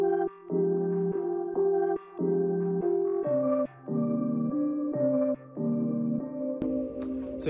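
An Omnisphere synth pad sample runs through EQ with highs and lows cut and some frequencies ducked, giving warm sustained chord phrases with short pauses, loud and alone, ending in a brief bright noisy burst.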